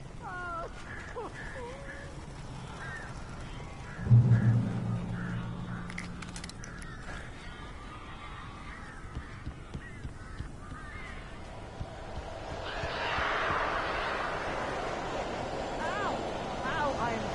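Birds caw in the video game Alan Wake, with harsh scattered calls, a sudden heavy thump partway through and a rising flutter of noise later, alongside talk.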